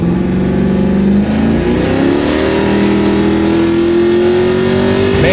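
A Chevrolet Camaro's LS3 V8 revs through a stepped-pipe exhaust, the loud, close engine note climbing steadily in pitch as it pulls toward the top of the rev range, alone with no talk.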